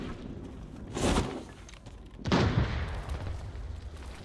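Two heavy booms from grenade blasts in Arena Breakout Infinite, each a loud burst that rumbles and fades, spaced about a second apart.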